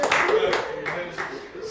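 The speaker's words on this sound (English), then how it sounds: "Clap for yourself." Audience clapping at a talk, a loose burst of claps that starts strong and thins toward the end, heard close and moderately loud with some voices mixed in.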